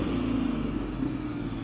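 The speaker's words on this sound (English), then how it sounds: "rev the engine for me, sir." A 1972 Citroën SM with its Maserati engine running close up: a loud, steady engine drone with a low, throaty hum that holds almost level for the whole short stretch, with no voices.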